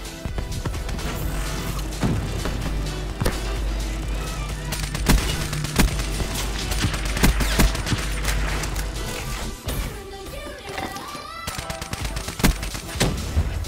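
Man-O'War rifle fire in Black Ops 3 hardcore Team Deathmatch comes as loud repeated gunshots in quick bursts, mixed with other game sounds throughout.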